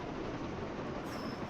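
A train rolls along in a Thomas & Friends video game with Gordon, a steady rumbling run with a faint high whine entering near the end, continuous and fairly close.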